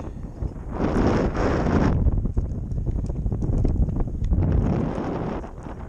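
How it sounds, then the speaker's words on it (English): Wind gusts blow outdoors during the removal of a 65-foot spruce tree, two broad surges of rushing, buffeting air across the microphone with a quieter lull between them. "So he's got a little bit of a breeze there."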